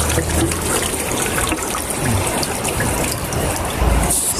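Water drains out of a washing machine after its drain fault is fixed, a steady close rushing gush with faint mechanical rattling throughout.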